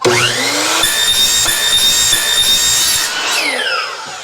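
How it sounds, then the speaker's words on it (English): A chop saw cuts through 1.5 inch PVC pipe, its motor spinning up to a loud steady whine with a grinding bite through the plastic, then winding down near the end. "I'm gonna take this down to my chop saw, make quick work of it."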